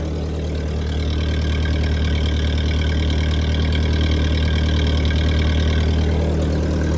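A tractor engine idling while it warms up, a steady low mechanical drone with a constant rhythmic chug, close and loud, with no talking.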